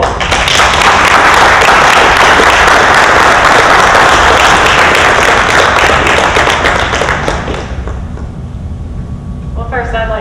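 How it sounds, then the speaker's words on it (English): Applause fills a college honors forum ceremony, dense clapping from a large audience that holds steady, then thins and fades toward the end, giving way to a few scattered claps and faint voices. "So we have a round of applause for all of them."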